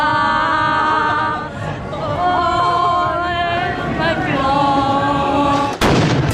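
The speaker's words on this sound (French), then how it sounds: "Une grenade de désencerclement vient semer le trouble au milieu des manifestants." A dispersion grenade goes off with a sharp, loud blast near the end of the stretch, amid a crowd of protesters in Paris during a Yellow Vests demonstration, following sustained chanting and shouting from the crowd.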